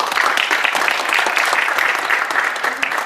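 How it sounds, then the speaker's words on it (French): A crowd at the opening ceremony of a 3v3 football tournament in Paris applauds together, a steady dense burst of clapping that stays loud and even throughout. "applaudissons-nous tous pour commencer cette cérémonie d'ouverture"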